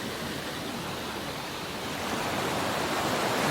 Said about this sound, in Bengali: ঝর্ণা প্রবাহিত ঝর্ণা।